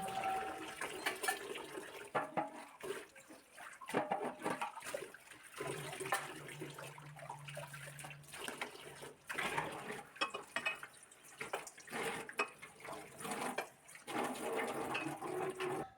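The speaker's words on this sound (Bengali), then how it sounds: "খাওয়া দাওয়ার সেরে আমি এখানে বাসনগুলো সব মেজে ধুয়ে রাখছি" Dishes being scrubbed and rinsed after a meal under running water, a steady splashing flow with occasional clinks of utensils and pans, close and continuous with brief pauses.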